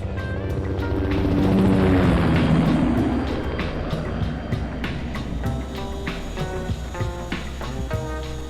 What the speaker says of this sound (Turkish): üstümüzden sürekli askeri helikopterler geçiyor